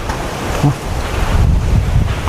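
Strong storm wind roars steadily outdoors, buffeting the microphone with continuous low rumbling gusts and broadband rushing noise, no voices present.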